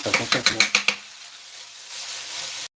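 Shallots sizzle in a hot pan as they soften for a quiche lorraine, with about six quick rhythmic stirring scrapes at first, then a steady close hiss of frying.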